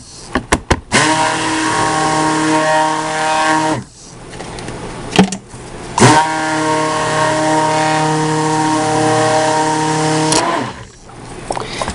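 A stick blender mixing root beer soap whirs in long, steady bursts with brief pauses between, its pitch dipping as each burst starts and stops, loud and close.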